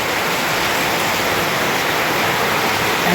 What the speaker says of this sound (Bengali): আস্তে আস্তে বৃষ্টির চাপ প্রচণ্ড বেগে বাড়ছে